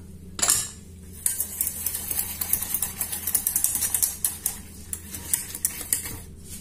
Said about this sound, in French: Et en même temps, je vais mettre mon cacao. Je vais mélanger tout ça.